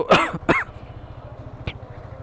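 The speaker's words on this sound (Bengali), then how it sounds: "সরি যে বারবার কাশি দিচ্ছি" A man with a cold gives two quick voiced coughs close together, followed by a single faint click, over a steady low rumbling hum during a Ramadan motorcycle ride.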